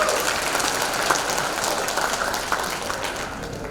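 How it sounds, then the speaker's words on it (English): An audience applauds at a talk, a dense, steady wash of clapping held at an even level for a few seconds with no voices over it. "Give yourself another big round of applause for being so hungry to learn"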